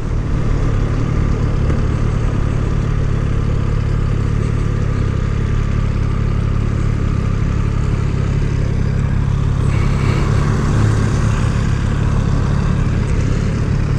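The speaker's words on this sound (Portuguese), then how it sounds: "Olha o barulho da moto. Barulho gostoso dessa moto." A new XRacing motorcycle engine runs steadily at a constant pitch, a loud continuous rumble held close by for the whole stretch with no talking.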